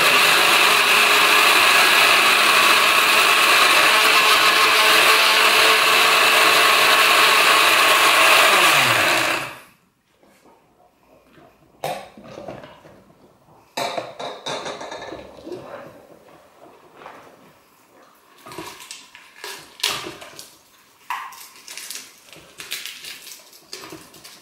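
Electric grinder grinding Espelette pepper at home, a loud, steady whirring buzz for about nine seconds that stops abruptly, followed by quiet scattered clicks and rustles.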